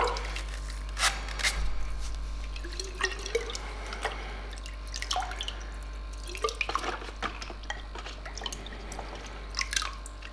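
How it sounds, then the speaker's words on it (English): Water splashing and trickling through an aquarium filter pipe as it is rinsed out, with irregular close drips and gurgles over a steady low hum. "I like to give this pipe a rinse out"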